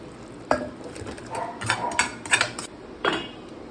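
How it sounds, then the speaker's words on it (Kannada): Spice mixture is added to cooked lentils for bele sambar and stirred in a metal pot, with several clanking scrapes and knocks of a ladle against the rim over a faint sizzle, close and fairly loud. "ಇವಾಗ ಇದನ್ನು ನೋಡಿ ನಾನು ಬೇಳೆಗೆ ಹಾಕ್ತಾ ಇದ್ದೀನಿ"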